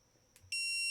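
Electronic e-collar training beep, a short steady high tone that starts abruptly and holds for about half a second, close and clear with no talk.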